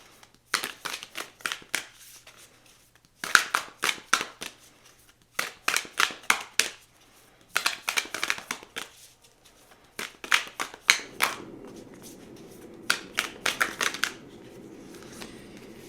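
Tarot cards being shuffled in short, crisp bursts of riffling and flicking, repeated several times with pauses between, close up in a quiet room.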